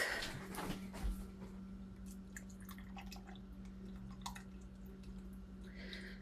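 Milk pours into a pot for Kraft Dinner on the stove, a faint, soft trickling and dripping over a steady low hum, with no talking.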